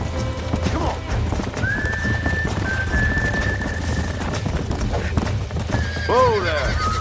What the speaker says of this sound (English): Bro, this horse is fucking fascinating.